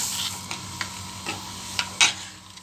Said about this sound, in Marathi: आणि सारखं चिटकू द्यायला हलवत राहायचं, असं हलवतच राहायचं।